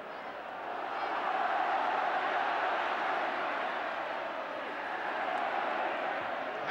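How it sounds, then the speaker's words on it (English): Football crowd at a Brighton v Liverpool FA Cup fourth-round match, a broad sustained roar from the stands that swells and holds throughout. "You should see the crowd down here now."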